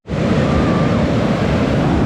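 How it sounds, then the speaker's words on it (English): Ocean surf rolling onto a beach, a loud continuous wash of breaking waves with rumble and wind noise, no voices. "Some of the waves do look a bit gnarly"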